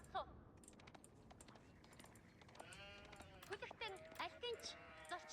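Sheep bleat in an Age of Empires match, several short wavering calls in the latter half alongside game clicks and keyboard tapping, while a player talks throughout.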